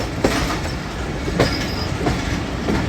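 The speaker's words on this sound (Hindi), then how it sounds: "4 नंबर प्लेटफॉर्म पर हमारी ट्रेन अप्रोच कर रही है।" Rehman Baba Express train pulling into a platform at a station on the route to Rawalpindi, with steady rolling rumble, rhythmic clickety-clack of wheels over rail joints and a brief high wheel squeal, close and loud.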